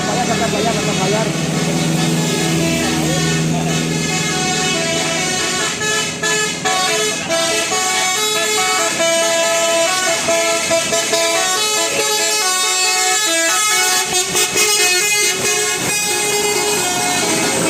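Telolet horns from Basuri buses in a tight convoy play loud, melodic, multi-tone musical toots that continue throughout, layered over road and engine noise.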